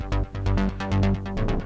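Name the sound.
synth bass with Ableton Live saturator on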